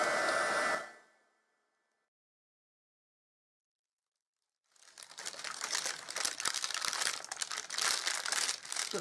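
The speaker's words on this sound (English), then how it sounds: "Heat tool comes on, let it get warm." A craft heat tool blows hot air in a steady, loud roaring whoosh that starts after a stretch of silence and runs on continuously; an earlier burst of noise cuts off before it.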